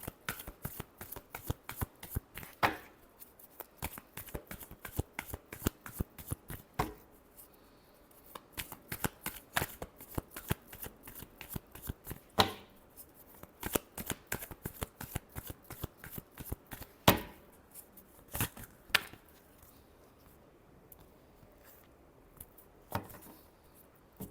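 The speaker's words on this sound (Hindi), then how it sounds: "Last shuffle." Tarot cards are shuffled by hand in repeated quick riffling bursts, close and crisp, with short pauses between rounds and no talking.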